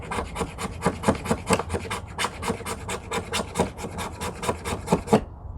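A knife scrapes fatwood into shavings in rapid, rhythmic rasping strokes, about three per second, close and dry, ending abruptly.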